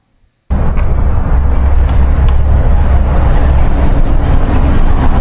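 Traffic on a roadside highway sets up a loud, continuous roar that starts abruptly and holds steady, dense with low rumble and passing-vehicle wash, and no one speaks.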